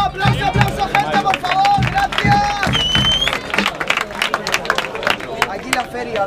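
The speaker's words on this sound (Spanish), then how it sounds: "Aplauso, aplauso, gente," Spectators at a freestyle rap battle in Alicante clap and cheer in a lively crowd, with sharp claps mixed with whistles and loud voices calling out nearby.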